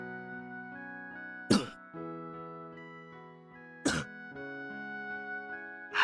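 Two sharp throat clearings, a few seconds apart, cut through a steady sustained musical tone in the visual novel Higurashi When They Cry.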